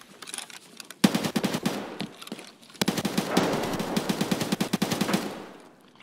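Rapid automatic gunfire from the Escape from Tarkov shooter game, in two sustained bursts of dense, loud shots separated by a short pause, with no talking.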